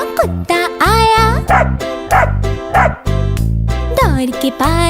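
Over a bouncy children's song backing, a voice sings several quick, yappy barks in imitation of a dog, loud and close.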